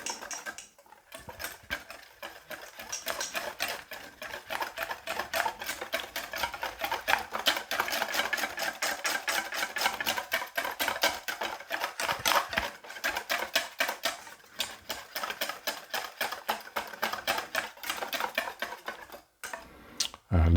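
Pancake batter of flour and baking powder is mixed until smooth, a rapid, continuous rhythmic scraping and tapping of utensil against bowl, close and steady with brief pauses, no talk.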